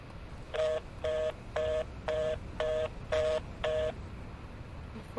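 A telephone is dialed in a horror video game set in a house, seven evenly spaced keypad tones beep one after another over faint background noise.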